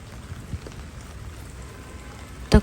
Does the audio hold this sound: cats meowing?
no